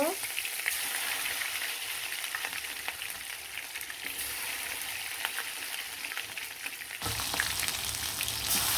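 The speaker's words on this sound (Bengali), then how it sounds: "এখন এই গরম তেলে কিন্তু আমি মাংসগুলা খুব সুন্দরভাবে ভেজে নিব" Spice-marinated chicken pieces fry in hot oil with a constant, close, hissing sizzle that brightens slightly near the end.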